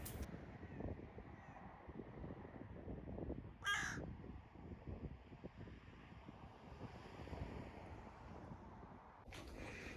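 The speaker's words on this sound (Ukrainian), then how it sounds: "Це я побачила ворону, так вона мені сподобалась, що вирішила її трішки зазняти." Crow cawing outdoors: a short burst of caws about midway and another near the end, fairly close, over steady wind and surf-like background noise, no talk.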